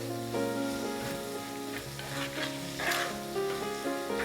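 Sliced ginger and garlic sautéing in a pan for a Kerala prawn curry: continuous close sizzling with a utensil stirring through it, with faint tonal music underneath.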